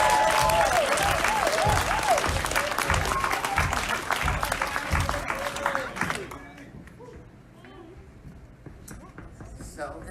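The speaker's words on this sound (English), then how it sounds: "So this is perhaps some of the most important clapping you'll do this whole week." A crowd claps loudly at a 2018 Vancouver civic election event, with dense applause and a few whistles and voices. After about six seconds it fades to a quieter room with scattered sounds.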